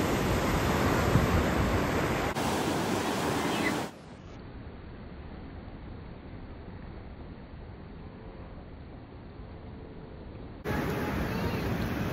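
High ocean waves breaking on the beach at San Vicente, Ilocos Sur, a continuous broadband roar of surf that is loud at first, drops to a softer wash for several seconds, then swells loud again.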